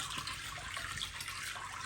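A thin stream of water runs steadily into a container, a continuous bright splashing trickle at moderate distance with no talking.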